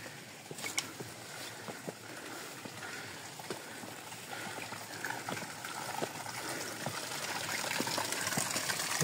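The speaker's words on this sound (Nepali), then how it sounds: "पानी पनि बगिरहेको रहेछ।" Spring water flows and trickles steadily beside steep stone hiking steps on a forest trail near Tarkeshwor in Shivapuri Nagarjun, a continuous gushing wash that grows slightly louder toward the end, with no talking.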